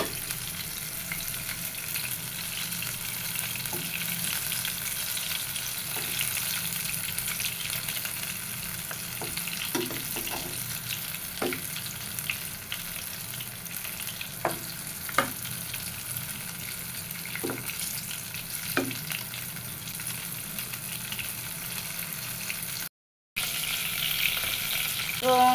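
Marinated chicken frying gently in a pan for a spicy red curry, a steady close sizzle with occasional soft clicks and stirring taps, no talking.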